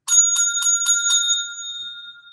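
A button-triggered bell effect rings five quick, bright dings in a row, then a clear metallic tone fades out alone.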